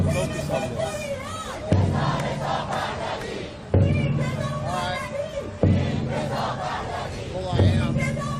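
A crowd of protesters cheers and chants in rhythmic bursts, loud massed voices rising in repeated waves roughly every two seconds, heard from played footage.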